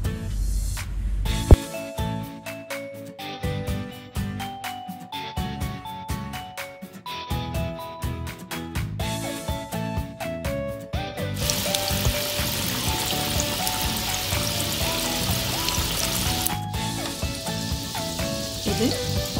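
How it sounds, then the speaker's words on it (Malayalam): Falafel fries in hot ghee, a bright, crackling sizzle that rises about midway and holds for several seconds beneath steady, rhythmic background music. "അതിലേക്ക് നമ്മൾക്ക് ഇതിൽ നിന്നും ഓരോന്നോരോന്നായി ഇട്ട് ഫ്രൈ ചെയ്തെടുക്കാം."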